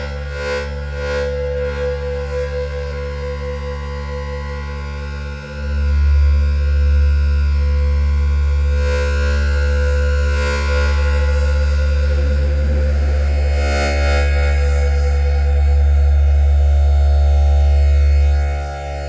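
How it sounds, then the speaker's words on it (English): A sustained synth drone with delay and reverb, droning low and steady throughout with a swelling resonant wash and faint tonal layers on top, alone with no voices. "Now let's add some delay and reverb for the drone atmosphere."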